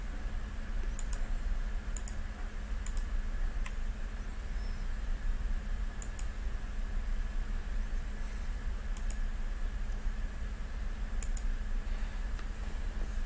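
Faint computer mouse clicks sound sparsely at irregular intervals over a soft background hiss, with a few quick double clicks.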